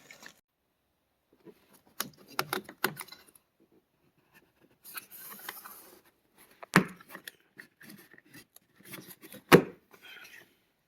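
Plastic trim on a 2017–2021 Honda CR-V is pried up, giving sparse close clicks, snaps and scraping rubs with a couple of sharp pops and quiet gaps between them.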